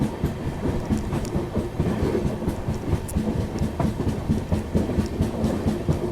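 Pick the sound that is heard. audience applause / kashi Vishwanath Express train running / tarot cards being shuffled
kashi Vishwanath Express train running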